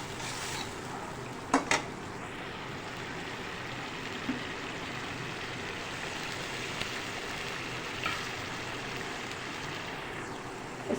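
Dhaba-style mash dal is stirred in a pan with dried fenugreek leaves over a soft, continuous sizzle, with a pair of sharp scraping knocks near the start and occasional faint taps.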